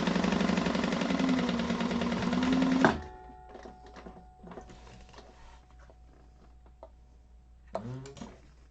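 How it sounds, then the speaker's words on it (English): A sewing machine chain-stitches tote bag pieces with a fast, loud mechanical whir that stops abruptly after about three seconds, followed by faint handling clicks and rustles. "I'm going to chain stitch these just to make it a little faster."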